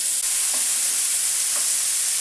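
Cubes of beef for beef stroganoff frying in a pan, a steady loud broadband sizzle that carries on without a break and has a couple of faint stirring touches.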